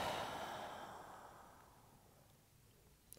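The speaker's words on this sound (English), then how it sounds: "Exhale, let it go." A slow, deep exhale during a yoga breathing exercise, a soft breathy rush that is loudest at the start and fades gradually over about three seconds, close to the microphone, with no talk.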